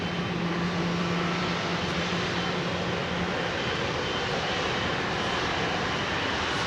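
A jet airliner engine roars at London Heathrow Airport, a loud, continuous broadband rumble that holds steady throughout with no talk.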